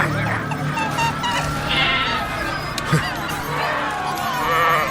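Sheep bleat several times over background chatter and noise, with someone talking throughout.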